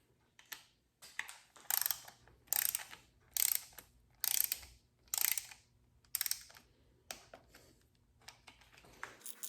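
A ratchet wrench torques down bolts in sequence during a Subaru WRX engine rebuild, with a series of sharp clicking ratchet bursts, about ten in all, separated by short silent gaps, close and crisp.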